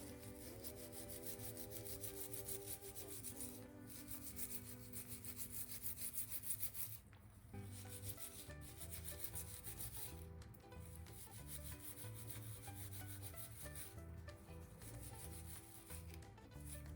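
Steady rubbing and scrubbing on stove burners and grates, a close, continuous abrasive scraping with a regular back-and-forth rhythm and no talk.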